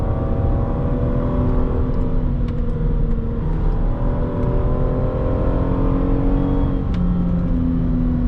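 A 2009 Hyundai Azera with a 3.3-litre V6 accelerating hard uphill, its engine note climbing steadily and droning loud and close throughout, with no voices.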